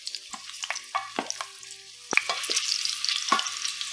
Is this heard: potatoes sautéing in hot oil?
yes